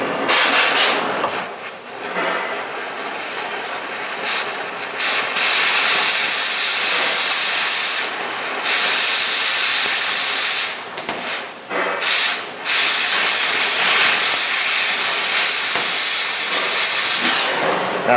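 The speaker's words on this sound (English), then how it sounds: "if you're not handy with a torch, don't do that because you could cut through the sway bar itself" Cutting torch heating the nut off a sway bar link on a Hyundai Santa Fe, a loud, steady roaring hiss that holds for most of the stretch with a few brief dips, close up and without talk.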